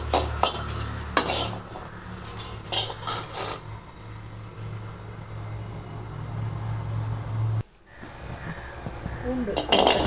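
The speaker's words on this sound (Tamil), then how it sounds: "அடுத்தது கருவேப்பிலை வந்து ஒரு கைப்பிடி அதையும் வறுத்து நல்லா வறுத்து எடுத்துக்கோங்க." A handful of curry leaves dry-roasting in a pan for peanut idli podi, with busy metallic scraping and clattering of a spoon early on that settles into a low, steady rustling.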